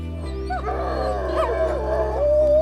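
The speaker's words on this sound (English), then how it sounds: "every now and then, a familiar wild call will let you know you're in wolf territory" Wolves and wolf dogs at a Colorado wolf sanctuary near the Rocky Mountains howl together in a loud, sustained chorus of overlapping rising and falling wails, close and continuous throughout.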